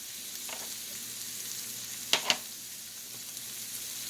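Vegetables sizzling in a pan while being cooked until just softening, a quiet, steady frying hiss with a couple of brief sharper pops or stirs midway, no talking.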